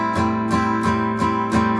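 Acoustic guitar strummed open and unmuted, five ringing downstroke chords in a steady beat, close and full, each strum sustaining into the next.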